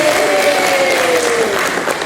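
Applause from a crowd at a school presentation, a dense, loud, continuous patter of many hands clapping with no pause, close by and sustained for the whole moment.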